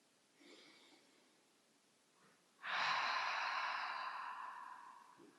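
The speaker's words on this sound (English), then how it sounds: "the breath becomes audible." Audible yoga breathing, a faint soft breath early on, then a long loud throat-constricted exhale that rushes and slowly fades over several seconds, close and alone.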